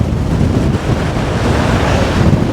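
Strong wind buffets the microphone at the shore of Aberlady Bay, a loud, continuous roar with surf mixed in and no break for the whole clip.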